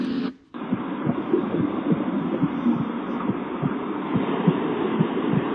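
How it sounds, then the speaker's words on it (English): A steady, throbbing heartbeat sound from a sound machine thumps in a regular rhythm over a low electronic hum, starting after a brief gap of silence. "That's a heartbeat."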